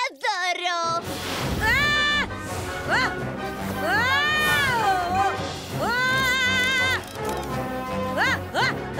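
A small flying cartoon kitten in a children's animated show gives a string of high, sliding meows, several drawn-out cries repeating across the scene over music and sound effects.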